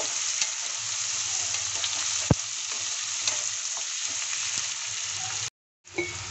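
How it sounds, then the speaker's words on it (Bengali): Chopped onions fry in a pan for a village-style egg curry, a continuous close sizzle with a sharp utensil tap midway and a short break of silence near the end. "পেঁয়াজগুলো নরম হওয়া পর্যন্ত একটু ভেজে নেব।"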